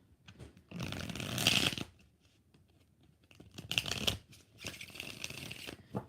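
Tarot cards are shuffled by hand in three distinct bursts of rapid riffling and flicking, close and crisp, separated by short pauses with no talk over them.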